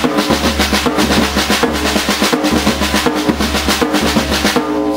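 A drum kit exercise with the bass drum added under a repeating sticking pattern, loud and close, with steady low thumps locked to the fast strokes.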